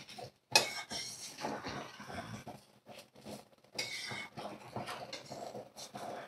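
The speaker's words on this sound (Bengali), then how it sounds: "তো আমি এবার ভালো করে একটু মিশিয়ে নেব।" Egg biryani being mixed in a pot, with scraping and clinking of a metal spoon against the pot in irregular strokes, fairly quiet and close.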